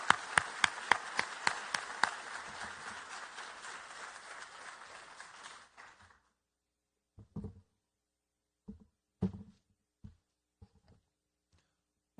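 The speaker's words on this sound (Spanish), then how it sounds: "fuerte ese aplauso para Carlos Sefri" An audience gives speaker Carlos Sluzki a round of applause, a few sharp claps standing out at first, the clapping holding for about six seconds before stopping abruptly, followed by scattered faint knocks and shuffles in a quiet room.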